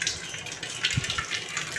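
Water runs from a kitchen tap into a cooking pot while greens are being cooked at home. It is a faint, brief splashing and trickling for under two seconds, with no speech.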